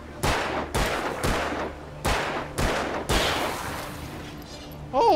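Gunfire in the video game Alan Wake: six sharp, loud shots spaced roughly half a second apart, each with a booming tail, followed by a brief rising electronic tone at the end.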